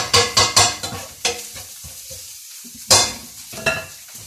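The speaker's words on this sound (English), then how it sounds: "So, we'll put those in, give that a mix." Paneer and spinach curry is stirred in a hot, sizzling pan. A spoon scrapes and knocks close up in short, loud strokes, several in a quick row and then a few more, over a faint sizzle.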